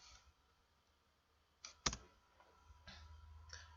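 Sparse key presses on a computer keyboard in a quiet room, a few soft isolated clicks with one sharper tap, faint and close.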